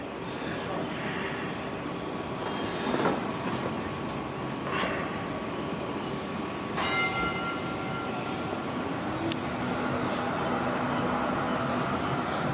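A tram on the St Kilda light rail gives a steady rolling rumble with metallic clanks and a few sharp squeals, moderately loud and continuous, with distant outdoor background.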